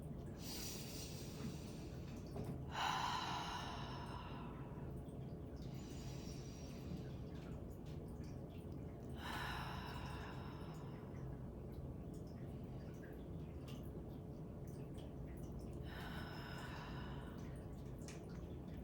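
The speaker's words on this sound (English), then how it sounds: "I'm gonna take 3 deep breaths again" Three slow, deep breaths spaced several seconds apart, each a soft airy rush close to the microphone, over a steady low background hum.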